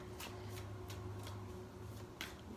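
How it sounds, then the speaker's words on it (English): Tarot cards are shuffled by hand in a quiet room, giving soft, rapid riffling bursts that repeat several times over a low steady hum. "I'm going to keep shuffling"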